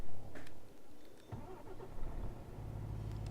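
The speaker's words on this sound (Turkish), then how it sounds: "Evet motor çalıştırıyorum." A truck engine in Euro Truck Simulator 2 cranks and catches, then settles into a steady low idle with a rising rumble, close and fairly loud.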